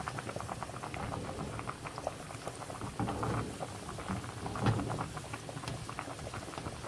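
Spaghetti boiling in a pot of water gives a steady bubbling and crackling simmer, moderately close and unbroken, with no voices.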